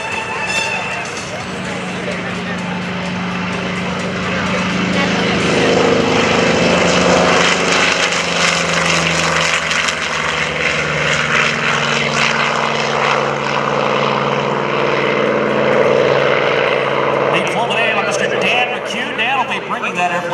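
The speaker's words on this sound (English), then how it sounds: "making its debut performance here at the Rhode Island Airshow, your A-1 Skyraider" A Douglas A-1E Skyraider propeller aircraft engine roars loudly and continuously at an airshow, swelling as it passes near, with a rough, throbbing drone throughout.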